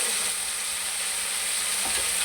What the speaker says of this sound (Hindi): ये लहसुन, हरी मिर्चें, टमाटरों का पेस्ट में हम एक साथ डाल रहे हैं।